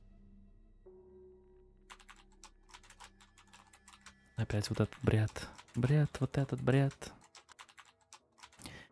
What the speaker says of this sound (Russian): Кто печатает на печатной машинке?